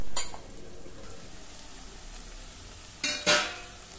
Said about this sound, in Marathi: ही चिवईची भाजी जरा तेलावर आणि वाफेवर शिजवून घेऊ